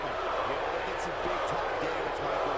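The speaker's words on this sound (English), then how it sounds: "Who the crowd chanting for?" Arena crowd noise from the WWE 2K18 wrestling game, a dense, loud roar with rhythmic chanting running throughout, mixed with thuds from the match and talk over the top.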